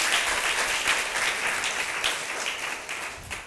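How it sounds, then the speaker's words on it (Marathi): A church congregation claps together to thank God, a dense, steady wash of many hands that holds loud and even throughout, with no voices rising above it. "टाळ्या वाजून प्रभूला धन्यवाद देऊया."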